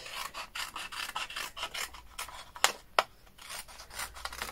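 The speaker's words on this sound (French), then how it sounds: "Je vais découper" Scissors cutting paper along dotted lines for a beginner's travel scrapbook album, a steady close rasping snip-and-slide with two sharper snips, no talk.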